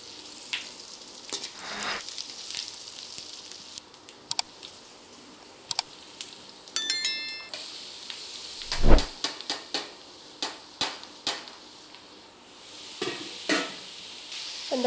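Ridge gourd sautéing in a pan with rock salt and turmeric gives a soft, steady sizzle, broken by sharp clacks and scrapes of a spoon stirring, fairly quiet and close.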